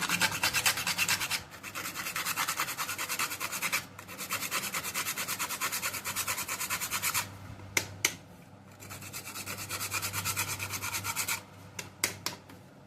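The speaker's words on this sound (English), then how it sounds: "So, I'm grating the nutmeg." Whole nutmeg rasped against a grater for a pumpkin potato pudding: steady, close scraping strokes in long runs with short pauses, ending in a few scattered scrapes and taps, no speech.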